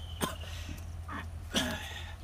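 Several short throaty coughs from a person being choked in a self-defense demonstration against a double-hand neck choke, three separate bursts spaced unevenly and fairly close.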